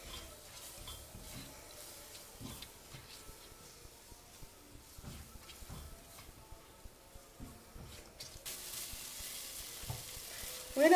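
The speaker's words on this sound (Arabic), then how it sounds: "ننزل بقى عليه بالبصل المفروم ونقلب البصل مع البهارات" Minced onion with spices fries and sizzles quietly in a pan while a spoon stirs it now and then, giving light scraping ticks. Near the end the sizzle swells louder, and no one talks.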